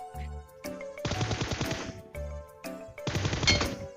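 Automatic gunfire in PUBG Mobile, two rapid bursts of closely spaced shots each lasting about a second, loud and near, set against steady in-game background tones.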